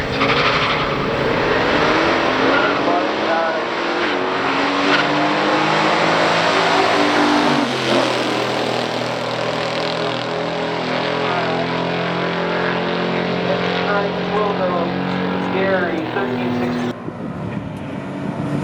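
Two Chevelles, a 1965 Malibu SS and a 1969 SS396, drag race on a strip, engines roaring and revving hard as they launch and pull through the gears, loud and close, with the pitch dropping as they shift.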